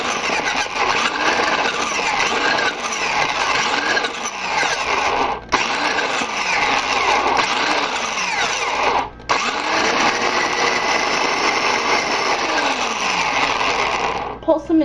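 Bread slices being pulsed into fine breadcrumbs in a food processor, a loud continuous whirring motor with blade chatter running almost nonstop for about fifteen seconds, broken by two brief pauses.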